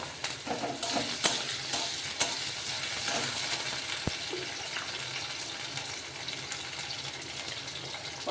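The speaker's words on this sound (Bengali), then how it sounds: "এবার আমি কুচি করে রাখা আলুগুলো দিয়ে দিলাম।" Chopped potatoes sizzle steadily in a hot pan while a utensil stirs them with scraping, clattering strokes, close and continuous with no talking.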